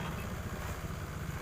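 A Honda Vario scooter engine idling steadily nearby, a low even throbbing hum with no revving, brief and alone.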